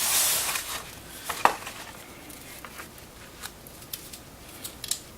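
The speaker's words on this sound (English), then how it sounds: "Start peel one side off here." Backing film being peeled off vinyl wrap, heard as a series of short crackling rips and ticks of varying loudness over a quiet room, without talk.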